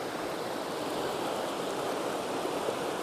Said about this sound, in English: I don't know if you're hearing any gurgling or bubbly sounds or anything.